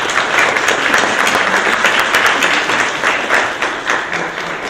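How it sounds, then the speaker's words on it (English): A convocation audience applauds in a sustained, full round of clapping, loud and continuous throughout. "let's give them another round of applause."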